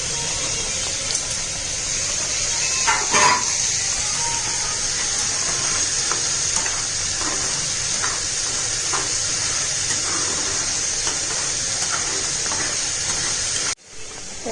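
Capsicum frying in a pan for a soyabean capsicum masala in an Odia home kitchen, a steady sizzling hiss that holds throughout with faint scattered crackles, close and loud, briefly dipping near the end.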